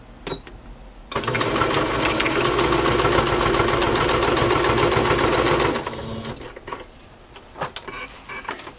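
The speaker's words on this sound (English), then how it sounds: "I am just going to sew this pocket on right there." Sewing machine stitching a fabric pocket onto a handmade journal, a steady fast mechanical whir lasting about five seconds, with quieter handling before and after.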